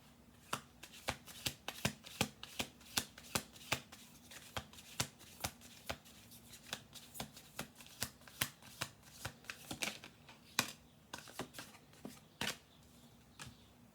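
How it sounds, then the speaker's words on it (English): A deck of tarot cards being shuffled by hand, a long run of crisp riffling snaps and soft slaps repeating at a brisk irregular rhythm, close and clear with no talking. "One more shuffle."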